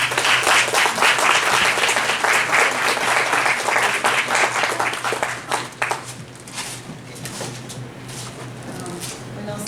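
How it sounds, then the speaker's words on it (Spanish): An audience at a school-education talk claps for the presenter, a full burst of applause that thins out after about five seconds into scattered, fading claps. "Un aplauso para nuestra ponente"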